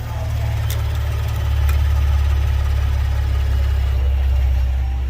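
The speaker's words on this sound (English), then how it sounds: "What it was that turbo wastegate right up there rattling bad." A Ford Expedition engine runs at a steady low idle just after startup, its rumble close and loud, with a loose turbo wastegate rattling faintly underneath the exhaust and a couple of brief clicks.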